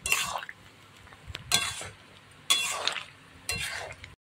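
A spoon stirs ground roasted spice into shukto in a pan, giving a few faint scraping strokes and light clinks of utensil on metal, spaced about a second apart, with soft sizzling underneath.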